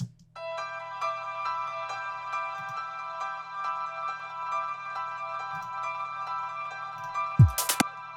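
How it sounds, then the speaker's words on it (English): A piano part from an uplifting trance track plays as sustained, ringing tonal chords over a low steady bass note, moderately quiet and alone, with a brief louder thump near the end. "So I have it right here where it hits the piano."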